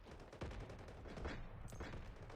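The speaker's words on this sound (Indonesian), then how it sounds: "Artileri juga sudah mulai diluncurkan kali ini untuk menghujani para musuhnya di sana." Artillery fire in a video game match, a faint, dense run of booming shots and rapid blasts rolling together without pause.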